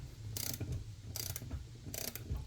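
A ratchet wrench tightens the lock nut on a BC Racing coilover, giving three loud, rapid ratcheting bursts with short gaps between them, close up and with no talk.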